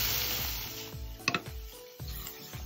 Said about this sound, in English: So we've got the hot pan, and you want to place your scallops in a clockwise direction